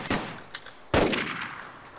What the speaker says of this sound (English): that's me shooting the Mosin